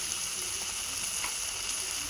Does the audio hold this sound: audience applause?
no